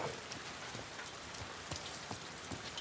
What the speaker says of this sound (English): Gosh, this rain.